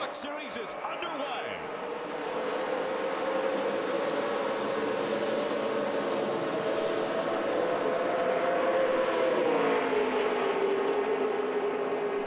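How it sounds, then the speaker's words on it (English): NASCAR Camping World Truck Series trucks at Daytona take the green flag, a continuous engine drone rising and bending in pitch as the pack passes at a distance, fairly faint and steady. "Hearing those motors fire up and take the green flag at Daytona."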